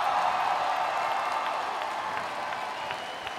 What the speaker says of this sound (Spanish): ¡Fuerte el aplauso para despedir en este reto a nuestra querida Aries!